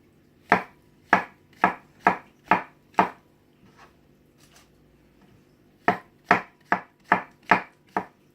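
A $350 professional chef's knife chops food on a cutting board in a home kitchen, two quick runs of sharp, evenly spaced strikes, six then seven, separated by a short quiet pause, close and clear.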